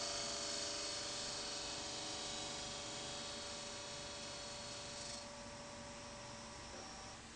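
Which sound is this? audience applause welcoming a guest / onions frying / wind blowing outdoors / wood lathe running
wood lathe running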